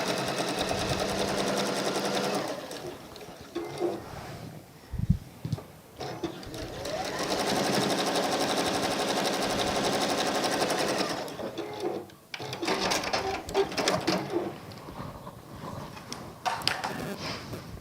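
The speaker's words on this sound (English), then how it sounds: "we're sewing each leaf block to either side of the stem piece" Sewing machine stitching fabric leaf blocks onto a fabric stem strip for a wall hanging, a fast steady mechanical whir running in long bursts with short pauses and handling clunks between.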